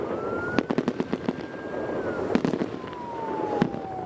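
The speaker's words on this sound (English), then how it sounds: "He was right there next to the beautiful fireworks display as well." Fireworks bursting over Ankara in a rapid string of sharp cracks and pops, then a few louder, isolated bangs, with a siren-like wailing tone sweeping through the background the whole time.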